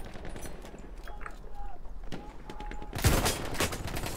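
Gunfire in the Battlefield 1 video game set in the Sinai desert: scattered shots early on, then a loud burst of rapid fusillade near the end, under a voice speaking.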